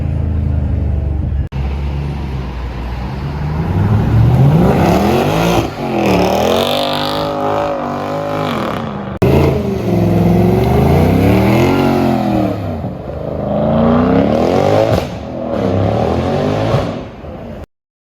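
A Mercedes S63 AMG's engine revs hard and loud again and again, the note climbing and falling in repeated sweeping surges across a long stretch, close and dominant with almost no talk.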